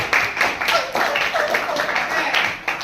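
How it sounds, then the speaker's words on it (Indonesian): Applause in a classroom at an Islamic senior high school in Pontianak, as students clap for a classmate; dense, steady clapping runs through the whole stretch with a few sharper bursts, fairly close and lively. "beri tepuk tangan untuk Hafiz."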